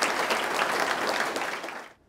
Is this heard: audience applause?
yes